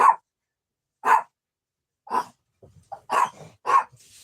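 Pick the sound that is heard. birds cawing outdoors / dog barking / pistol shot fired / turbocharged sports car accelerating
dog barking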